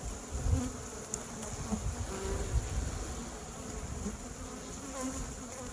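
A swarm of agitated honeybees hums steadily at an opened hive in February, a close, even buzzing drone that continues throughout with no talk.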